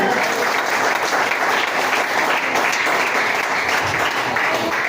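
A church congregation claps hard together for the Lord during a sermon, a loud, thick, continuous burst of many hands filling the room and holding steady from start to finish.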